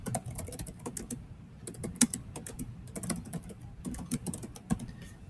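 Rapid, uneven keystrokes on a computer keyboard while a Google Doc is being written, with sharp clicks falling in quick bursts and short pauses, close and fairly quiet, no voices.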